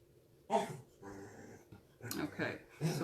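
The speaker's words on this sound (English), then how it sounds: "My dog is in need of attention." A dog whines and growls in bursts for attention indoors, with short whimpering and grumbling sounds separated by brief pauses, close and moderately loud.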